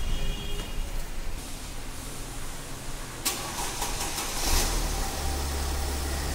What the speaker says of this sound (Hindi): एक बार और गाड़ी चालू कीजिए